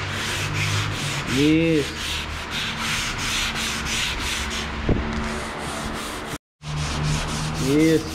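A car hood resting on a stand is sanded by hand in steady, continuous rubbing strokes, loud and close, with a brief pause near the end and short spoken remarks over it.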